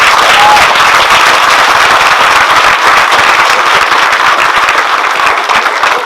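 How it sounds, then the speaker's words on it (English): Loud, dense crowd applause at an outdoor field opening celebration, steady and sustained throughout with no talking over it. "Round of applause for the youth."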